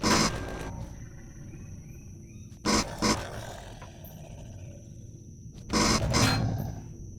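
A ripper dog, a hostile creature in the survival game Empyrion, lets out loud snarling roars in three bursts separated by quieter stretches of rumbling game ambience, with no voices.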